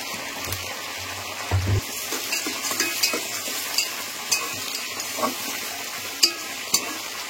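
Onions sizzle in a hot pan with a steady crackling hiss, broken by brief stirring knocks and scrapes, close up with no talking.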